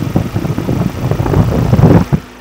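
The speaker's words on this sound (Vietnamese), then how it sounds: "Anh chị nghe máy cái tiếng động cơ dầu rất là êm này." A Ford Ranger XLS 2023 with a 2.0 diesel engine idles smoothly, a loud, steady low rumble with a soft rhythmic knock and no other sounds.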